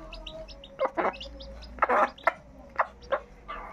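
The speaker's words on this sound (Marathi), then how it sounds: "ही कोंबडी आणि तिची 5 पोरं." A hen with her five chicks: bright, repeated peeps from the chicks fill the background while the hen gives several short clucks at uneven intervals, all near and with no talking.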